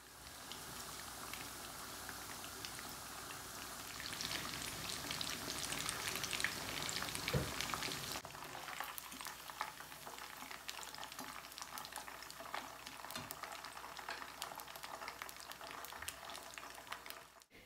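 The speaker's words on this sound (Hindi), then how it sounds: "अब एक पैन में ऑयल गरम करना है और उसमें मैरिनेट किया हुआ जो चिकन है उसको डालकर अच्छी तरह से फ्राई कर लेना है" Marinated chicken frying in hot oil in a pan gives a steady, dense sizzle and crackle with bubbling, swelling louder midway, then continuing evenly without any talk.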